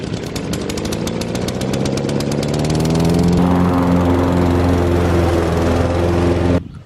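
A garden lawn mower drones loudly and close, its engine chugging with a rapid pulsing rhythm that smooths into a steady hum before cutting off abruptly near the end, with no voices.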